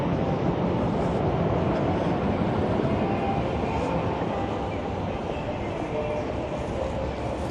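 Train rumbling overhead on the elevated railway in Ginza, Tokyo, a steady loud low roar with faint rail clatter, heard from the street underneath the tracks.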